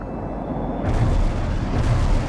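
Artillery barrage in the real-time strategy game World in Conflict, a sustained, heavy low rumble of overlapping explosions that swells and rolls on without pause.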